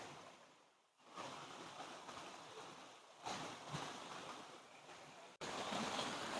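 Steady rushing, gurgling water of a forest waterfall fills the clip, a continuous broadband wash with no voices, briefly dipping before surging back louder.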